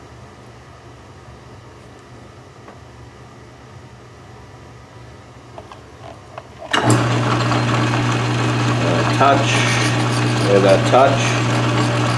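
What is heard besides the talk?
lathe running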